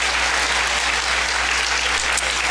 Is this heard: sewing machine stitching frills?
no